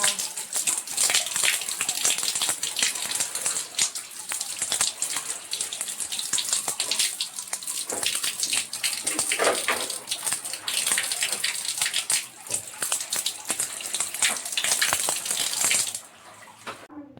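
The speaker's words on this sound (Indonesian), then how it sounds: "saya mencuci tangan terlebih dahulu" Hands washed under a running tap, a steady close gush of water with splashing and rubbing for about sixteen seconds, then the flow stops.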